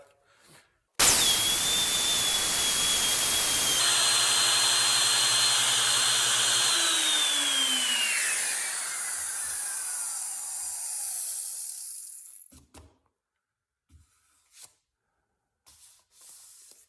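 A small, light router cuts wood clamped in a vise, with a loud steady high whine starting abruptly and running about eleven seconds before spinning down in pitch and stopping, followed by a few faint knocks.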